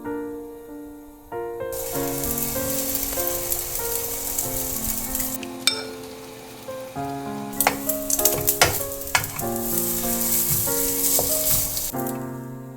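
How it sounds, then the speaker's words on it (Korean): Egg-soaked white bread frying in melted butter for French toast crackles in a steady sizzle beneath continuous background music, with a few sharp clicks and taps from the pan and spatula. "버터 녹이고 달걀물 적시고 팬에 붓고 이 과정만 되풀이하면 맛있는 프렌치 토스트가 완성돼요."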